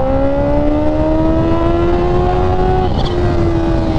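A Kawasaki Ninja H2R motorcycle engine holds a loud, steady high rev close by, its pitch easing down slightly with a brief dip near the end, alone with no talking.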